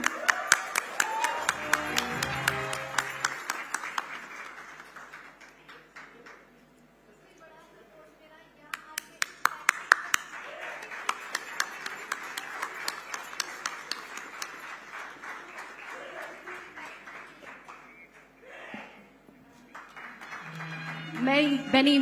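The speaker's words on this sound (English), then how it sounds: "a huge round of applause for Hina Saifi." An audience at the Indian of the Year awards ceremony claps in a scattered, moderate round of applause, with sharp individual claps over a murmur of voices, fading in the middle and then swelling again.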